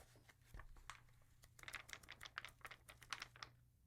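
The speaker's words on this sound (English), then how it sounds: "page turning sounds from an actual book" Soft papery flicks and rustles of book pages being turned, a quick uneven series of light crinkling bursts heard up close and quiet.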